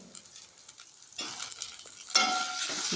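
Chillies and curry leaves being sautéed in a pan for bottle gourd kulambu, soft stirring scrapes giving way to rising bursts of sizzling, close and without speech.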